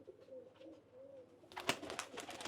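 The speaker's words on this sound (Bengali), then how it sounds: "এটা আপনার হাই ফ্লাই কবুতর ভাই উড়ে অনেক না প্রচুর উড়ে এরা" Pigeons of a high-flying breed give soft, low cooing throughout, joined after a moment by a louder burst of wing flapping and bustle from the birds close by, with no talking.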